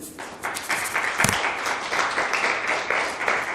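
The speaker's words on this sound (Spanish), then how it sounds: "Denle un aplauso a Cristo." A church congregation bursts into applause, a dense burst of many people clapping, fairly close and loud, building quickly and holding steady for a few seconds.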